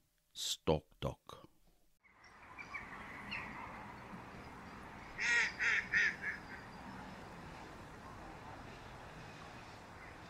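A mallard duck gives a short run of four quacks in quick succession, fairly close, over steady outdoor background noise in the Orkney Islands, after a brief voice and some knocks at the start.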